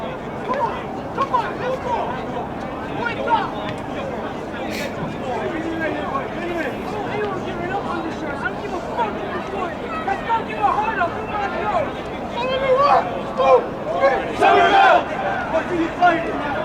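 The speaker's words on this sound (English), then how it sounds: "That's the crowd tonight at Cawley Stadium here in Lowell." Crowd noise fills Cawley Stadium in Lowell during a Brookline versus Somerville high school game at night, a continuous babble of chatter with rising bursts of cheering toward the end, and a voice talks over it.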